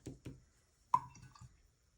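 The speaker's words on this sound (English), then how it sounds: "I'm gonna take my brush and then clean it out a little bit." A paintbrush is rinsed in a small amount of water, producing a few quiet, separate taps and drips followed by one sharper splashy clink, close up and sparse, with no voices.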